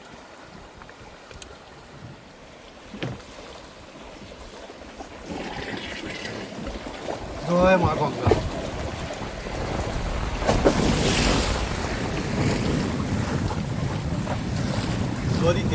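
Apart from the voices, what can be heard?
fishing boat on the Garal river in wind and waves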